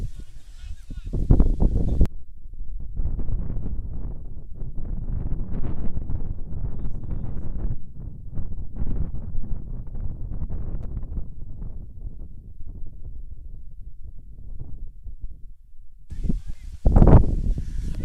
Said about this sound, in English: Wind is really starting to pick up here